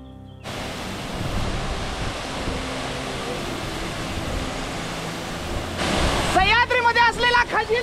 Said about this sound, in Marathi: आता आपण येऊन पोहोचलो आहोत एका पहिल्या धबधब्यावर